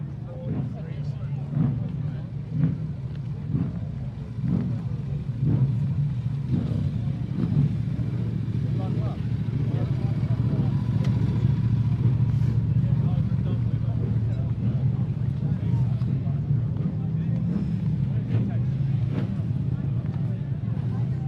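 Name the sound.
sidecar racing motorcycles running engines at TT shakedown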